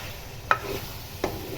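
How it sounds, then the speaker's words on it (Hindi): Cubed potatoes frying in a spiced pan for aloo dal sabzi, a low steady sizzle broken by two brief spatula clinks as they are stirred, close and quiet, no talking. "आलू की हम 6 से 7 मिनट तक भुनाई करेंगे बहुत ही अच्छे से।"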